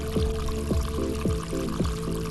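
Water splashes in a mobile video game as a synthetic effect. About four gurgling, pour-like swooshes repeat in an even rhythm, loud and close, with no speech.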